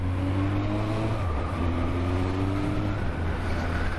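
Car with a manual gearbox shifted on the fly while driving, the engine drone dropping and rising in pitch as gears change, close and steady, with no talking.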